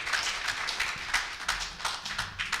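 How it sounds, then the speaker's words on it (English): An audience at a bar association law week event claps briefly, a light, moderately distant patter of hands with no voices over it. "I thought we could clap for that."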